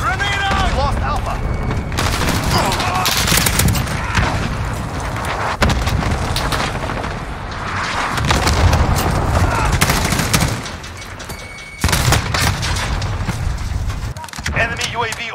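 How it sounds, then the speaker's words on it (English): Cluster strike explosions in Call of Duty Modern Warfare Domination, a dense, continuous roar of booms and rattling gunfire that barely lets up, with a brief dip before the barrage resumes and in-game voice callouts mixed throughout. "Cluster strike away."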